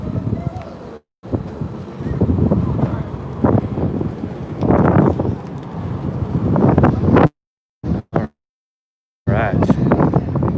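Heavy wind buffeting a microphone on deck aboard the Staten Island Ferry in New York, loud roaring gusts with a few brief dropouts and people talking underneath.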